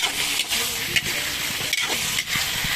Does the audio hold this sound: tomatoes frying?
yes